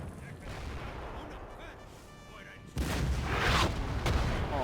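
Artillery fire in a Napoleon: Total War battle, muffled booms rumbling under a faint voice at first, then a louder, closer barrage of cannon blasts cutting in abruptly partway through.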